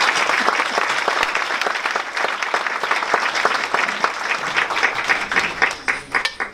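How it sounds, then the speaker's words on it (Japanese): Audience applause at a national party secretaries-general meeting, honoring the Yamanashi prefectural chapter: steady dense clapping from a large crowd, sustained and loud throughout before starting to thin near the end. "山梨県連の皆さんの奮闘に皆さん拍手を送ろうではありませんか"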